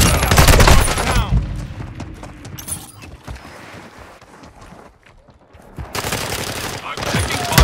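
Gunfire in the military shooter Call of Duty: Modern Warfare II comes as loud, close bursts of rapid automatic shots at the start and again near the end, with quieter battlefield noise in between.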